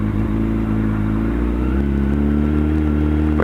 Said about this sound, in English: If I turn it up, revs will climb.